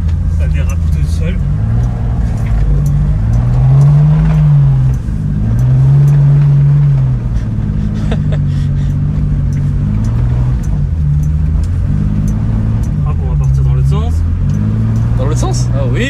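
An Aston Martin drifting across a grassy field, its engine droning loudly and steadily with rising and falling revs as the car slides, close and continuous, with people talking over it inside the car.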